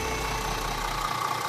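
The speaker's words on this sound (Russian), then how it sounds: "Вот он попросил завести автомобиль и теперь сам газует" A Mercedes W218 engine runs steadily just after an oil pan and intermediate shaft bearing repair, a continuous close idle rumble with no talk.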